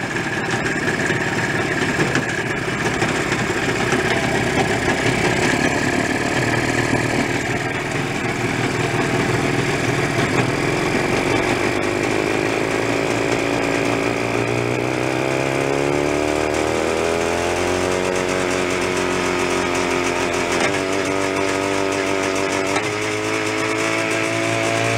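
Old barn-find Jawa motorcycle engine running steadily and loud, an idling drone that shifts into rising, falling revs partway through, with no talk.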